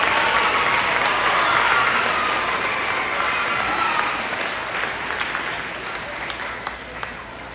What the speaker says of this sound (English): a big round of applause and welcome up here.